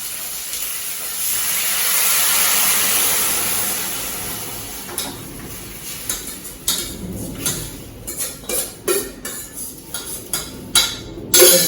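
A coconut and salt mixture for kara pidi kolukattai is poured into a hot pan with dal, raising a broad steamy hiss that fades into a series of scraping, clattering stirring sounds nearby.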